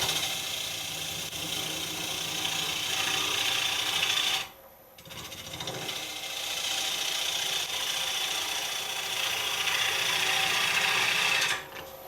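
A gouge taking a roughing cut on a wood lathe, nibbling the corner off a flattened blank: a steady, close rasping scrape that carries on for about twelve seconds, dropping out briefly partway through before resuming just as strongly.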